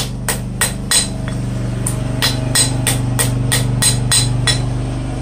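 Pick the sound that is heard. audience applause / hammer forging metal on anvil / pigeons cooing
hammer forging metal on anvil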